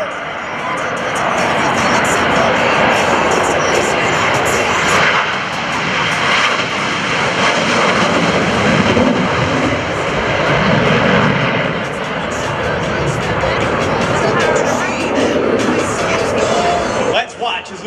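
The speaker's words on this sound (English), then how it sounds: "He'll execute a very precise low transition as he accelerates his aircraft to 300 miles per hour." A US Navy Blue Angels jet at an air show roars loudly and steadily as it accelerates through a low pass, and the engine noise stays dense and sustained until it drops away near the end.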